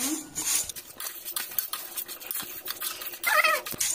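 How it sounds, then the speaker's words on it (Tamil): Vermicelli dry-frying in a pan until golden, stirred with a spatula that scrapes and clinks against the metal in quick, uneven strokes, with a soft rustle of strands underneath. "இது நல்லா பொன்னிறம் மாற வரைக்கும் வறுத்துக்கோங்க"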